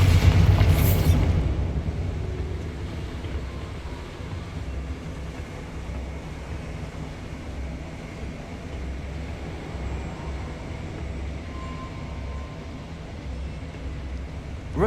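Bombarda spell explosion in the video game Hogwarts Legacy: a single loud burst at the start that fades into a long, low, steady rumble.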